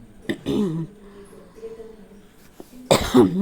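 A person coughs twice, a sharp burst early on and another strong hacking cough near the end, close and loud, with a short bit of voiced sound between them.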